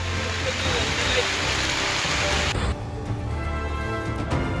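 Heavy rain pours down during a downpour in Pune, a dense steady hiss of rainfall that shifts abruptly midway to a thinner spattering, with faint vehicle noise beneath.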